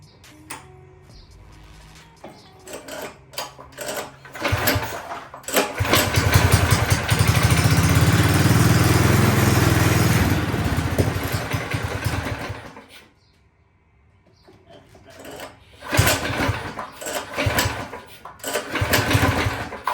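A small minibike engine with a freshly installed carburetor fires up and runs loud and close for several seconds, then drops away and restarts with uneven, sputtering revs, its idle still needing adjustment.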